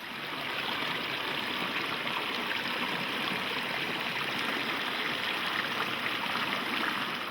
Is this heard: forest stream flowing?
yes